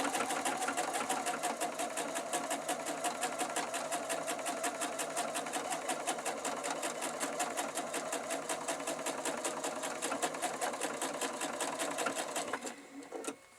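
A sewing machine runs steadily, stitching squares of a large Cathedral Windows quilt, its rapid, even needle rhythm close and continuous before stopping abruptly near the end.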